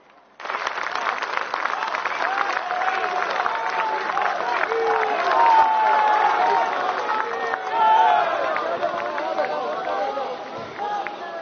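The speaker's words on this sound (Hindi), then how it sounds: "उनका जोरदार तालियों से स्वागत किया जाए।" Large crowd at a Parakram Divas event honoring Netaji Subhas Chandra Bose applauding to welcome Prime Minister Narendra Modi: a loud, continuous wash of clapping and crowd noise lasting over ten seconds, with cheering and voices mixed in.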